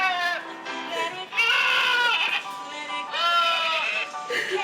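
People imitate goats bleating, a series of loud, wavering, nasal bleats from more than one voice in quick succession, close to the microphone.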